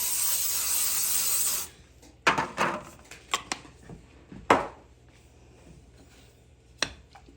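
A close, steady hiss of aerosol spray runs for under two seconds, then gives way to scattered knocks and scrapes of cookware.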